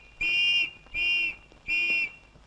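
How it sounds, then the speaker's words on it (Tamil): A whistle blown in a comedy film scene at a police station, three shrill, even blasts of about half a second each with short pauses between, clear and close. "நீ யார் இங்க வந்து விசில் ஊதிக்கிட்டு இருக்க"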